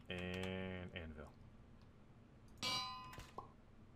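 Anvil clang in the video game Minecraft: two bright metallic ringing strikes, the first sustained and ringing for almost a second, the second a sharper clang a couple of seconds later, with quiet in between.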